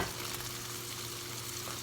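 Steady, continuous sizzling of food frying in a pan, close and even throughout with no talking.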